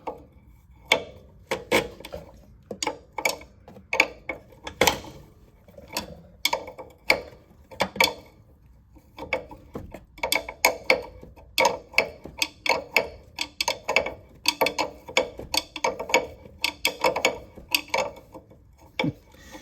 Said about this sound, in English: You're going to be wrenching. This is what you call wrenching.